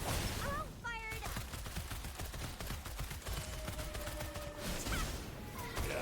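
Rapid video game gunfire fills the clip, a steady stream of sharp shots with whooshing effects and tonal game sounds over a continuous noisy bed, with a voice speaking underneath.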